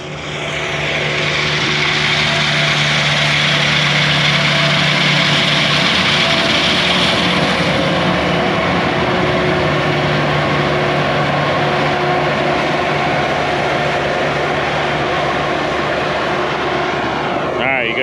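Swathers cut alfalfa and grass hay with a loud, continuous engine drone that holds steady and close for the whole stretch.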